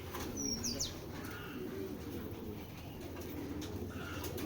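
Giribaz pigeons coo in a loft alongside a big-headed khaki male, low rolling coos overlapping at close range, with a brief chirp and a flutter of wings early on.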